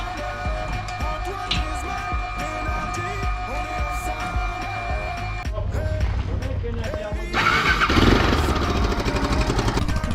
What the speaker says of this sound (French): moto est repartie comme ça